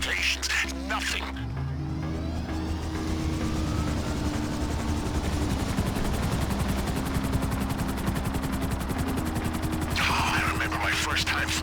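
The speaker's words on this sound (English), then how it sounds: "First time flying an agency helicopter." Helicopter rotor and engine drone steadily throughout in GTA Online, flying an agency helicopter, with gunfire bursts layered over it and a game voice heard at the start and end.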